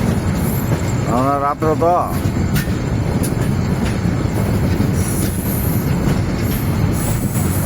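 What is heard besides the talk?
express train arriving at Dhaka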